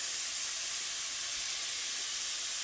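Spinach sizzles in a pan with Italian seasoning during a portobello burger recipe, a soft steady hiss of frying greens that stays even and fairly faint throughout.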